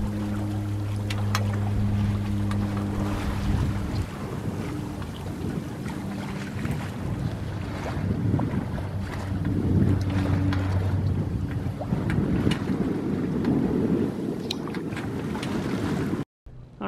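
A sailboat moves under sail through open water, with steady wind buffeting the microphone and continuous water wash; low engine-like hum early on, no clear talking, and an abrupt cut near the end.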